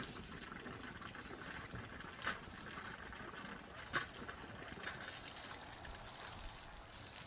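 Water from a garden hose rushing into flushing muffs fitted on a 1987 Johnson 9.9 outboard motor, a steady close hiss running throughout with a couple of faint knocks.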